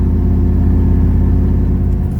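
A Chevy 3500 dump truck's engine laboring in first gear with the throttle floored on a hill, a loud steady low rumble with a pulsing drone heard from inside the cab.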